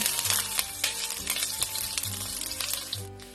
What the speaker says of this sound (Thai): ตั้งกระทะ ใส่น้ำมัน แล้วใส่กระเทียมซอยลงไปเจียว